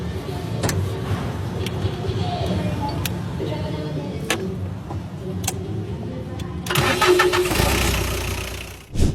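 A car with a dead battery, jump-started using a power tool battery and a couple of spoons, cranks over and catches, settling into a mid-pitched idle before a sharp revving burst near the end.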